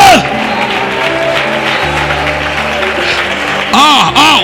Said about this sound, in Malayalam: ഒരാൾ പോലും മൗനമായി നിൽക്കാതെ എല്ലാവരും കരങ്ങളെ അടിക്ക്